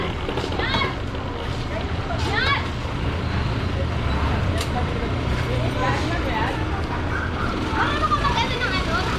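Heavy street traffic of cars and motorcycles clogs a road during an MTPB clearing and clamping operation, a constant dense engine roar with passing vehicles, people talking nearby throughout.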